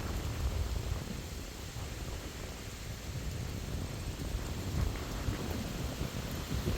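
Steady wind blows across an open tall grass prairie, a continuous broadband rush with heavy low rumble like gusts buffeting a microphone, unbroken and fairly loud throughout with no voices.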